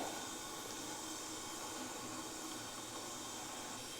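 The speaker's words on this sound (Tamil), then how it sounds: "தண்ணி பாருங்கள், நல்லா கொதிக்கிற சவுண்டு கேட்க." Steady broadband hiss and bubbling of water boiling in an idli steamer pot, a continuous rushing roar with no pauses and no voices.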